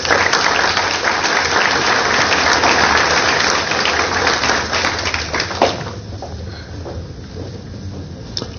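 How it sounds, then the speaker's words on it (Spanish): An auditorium audience at an academic event on technology education in Peru applauds loudly to welcome a congressman, with dense clapping that fades out over the last few seconds. "a quien recibimos con un fuerte aplauso"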